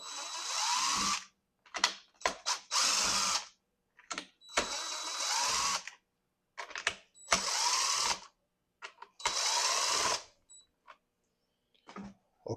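A cordless power drill backs screws out of the pump on a Graco Ultra Max paint sprayer, sounding as several loud, close whirring bursts with short pauses and brief clicks between them.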